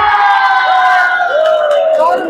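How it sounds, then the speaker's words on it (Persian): Spectators at a futsal final in Mazar-i-Sharif cheer and shout loudly together, a dense crowd roar of raised voices and whoops that holds steady throughout. "بله و تشویق تمام مردم"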